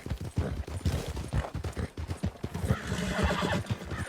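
In Red Dead Redemption 2, a gray horse gallops with a rapid, steady hoofbeat rhythm while loud whinnies and snorts break over it, close and busy with no talk.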